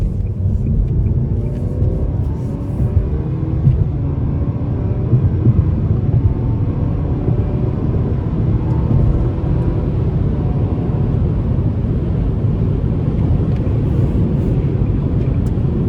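A 2025 Nissan Sentra SR with a 2.0-litre naturally aspirated engine accelerating hard in sport mode, heard from inside as a loud, continuous engine drone with rising harmonics over heavy road rumble.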